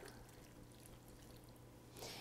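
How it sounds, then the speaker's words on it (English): Water poured into a pot of hearty vegetable soup, a steady trickling splash running quietly throughout with a brighter gush near the end. "Next, we're going to add in some water."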